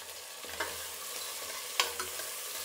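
Onions and tomato fry in a pan for coconut rice, a soft continuous sizzle with light spoon clinks as they are stirred.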